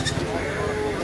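Goats bleat amid the steady bustle of a crowded wholesale goat market in Kerala, with calls rising over constant background chatter and movement.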